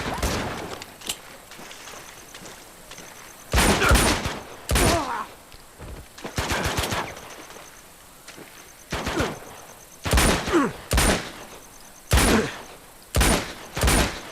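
Video game gunfire in Uncharted 2: Among Thieves: loud bursts of rapid shots come in clusters separated by short lulls, close and punchy over a low background.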